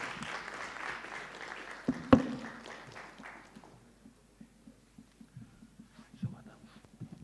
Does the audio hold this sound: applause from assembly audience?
yes